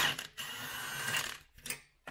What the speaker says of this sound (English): got his impact gun